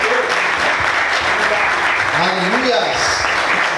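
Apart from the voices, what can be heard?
congregation applauding in church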